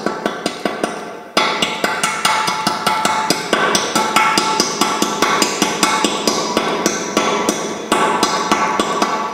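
A hammer taps repeatedly on a ceramic sink bowl to knock open a drain hole, working from the top. The sharp, close, evenly paced strikes continue for about nine seconds with one short pause early on.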